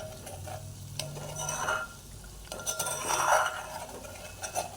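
Homemade desi ghee from Gir cow cream being stirred in a pan over medium gas, with soft scraping and clinking of the spoon against the pan over a faint steady sizzle.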